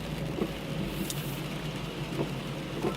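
Steady rain hisses around a car on a road test up a mountain road near Poiana Brașov, a dense constant wash of noise with a few faint soft taps and swells.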